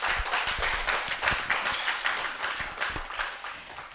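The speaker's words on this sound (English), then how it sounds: "Can we give her a round of applause again?" Audience applause at a 2023 International Mother Language Day event, a steady wash of many hands clapping for several seconds at moderate loudness, with no voices over it.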